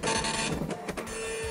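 An impact dot matrix printer, hammering pins on an inked cloth ribbon, buzzes and rattles loudly in a continuous mechanical screech, pausing briefly and resuming as the print head moves.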